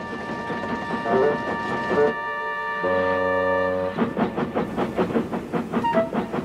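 A freight engine hauls loaded cars along rails on a railway siding, with rhythmic clanking from the wagons, a sustained steam whistle in the middle, and more chugging and clatter afterward.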